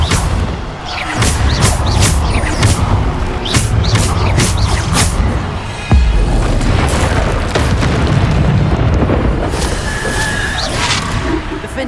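Bombarda spell blasts in Hogwarts Legacy on PS5, a rapid series of loud booming explosions with sharp bursts and thuds repeating throughout an ongoing fight, close and dense.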